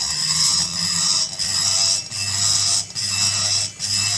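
A rotary tool ports the transfer passages of a Homelite XL922 chainsaw cylinder, running at moderate speed with light pressure and cutting oil. It makes a steady high-pitched whine with a low hum beneath, dipping briefly several times as the bit is eased off.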